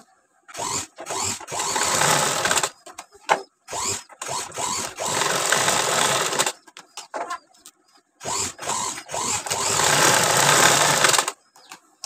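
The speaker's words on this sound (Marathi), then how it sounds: "मी तुम्हाला स्टिचिंग पण करून दाखवते।" Sewing machine stitching thick cloth for a sling bag made from a blouse piece, running in several sustained bursts of steady whirring separated by short pauses and clicks, close and fairly loud.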